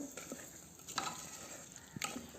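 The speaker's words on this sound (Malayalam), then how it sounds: "നല്ലതുപോലെ മിക്സ് ചെയ്ത് കൊടുക്കണം" A spoon stirs pumpkin and bean erissery curry with roasted coconut in a pan, giving soft scraping strokes with a couple of sharper clinks against a faint background sizzle.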